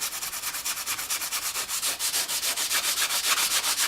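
A Scotch-Brite pad scrubs the back side of a 408 water pump part on a workbench, giving fast, steady back-and-forth rasping strokes in an even rhythm, close and fairly loud with no talk.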